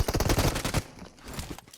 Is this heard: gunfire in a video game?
yes